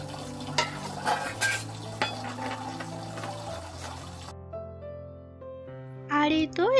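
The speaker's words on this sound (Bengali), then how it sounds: "এই তো এবার সব বাসন কুসনগুলো মেজে ধুয়ে নেব" Dishes and pots being scrubbed and rinsed by hand, with scattered clinks and clatter of utensils under steady background music.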